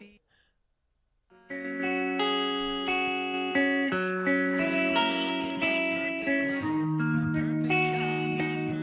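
Guitar part of a song, played back from a recording: layered effected electric guitar chords that come in after a short quiet start and ring out full and steady.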